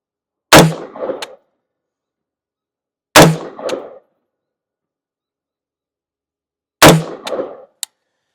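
Three sharp, loud rifle shots from an Anderson Manufacturing AM-15, spaced a few seconds apart, each with a brief ringing echo tail and silence between.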